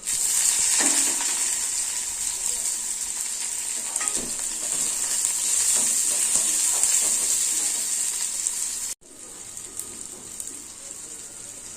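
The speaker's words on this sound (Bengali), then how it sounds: "কড়াই তেল গরম হয়ে গেছে শুকনো লঙ্কা দিয়ে দেবো রসুন ফোড়ন দেবো আর পেঁয়াজ কাঁচা লঙ্কা দিয়ে দেবো" Dried chilies, garlic, onion and green chilies hit hot oil in a wok with a loud, steady close-up sizzle and occasional stirring scrapes. The sound dips briefly near the end, then resumes.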